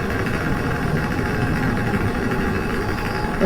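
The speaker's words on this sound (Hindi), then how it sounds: "गुल्ली काफी तेज स्कूटर चला रहा था क्योंकि रास्ता बिल्कुल वीरान था।" A scooter ridden fast along a deserted road at night gives a steady, close engine drone with an even rumble that holds unbroken from start to end, with no voices.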